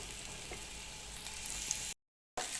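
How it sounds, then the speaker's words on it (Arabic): Alexandrian sausage and onions sautéing in a pan make a soft, continuous sizzle, steady and close. It cuts to brief total silence before resuming, with no talking. "نبتدي بقى نشوح الكلام الجميل ده كله ايه مع بعض"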